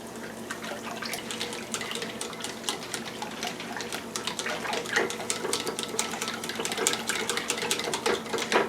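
A spoon or whisk stirs a keto breakfast pizza mixture of eggs with salt, pepper and garlic powder in a bowl, giving a continuous wet clicking and sloshing that is close and busy and grows a little stronger later on.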